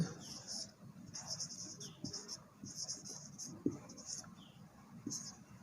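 Pen scratching across paper while writing out a trigonometry problem, soft rhythmic strokes in short bursts, close and quiet, with faint sounds underneath.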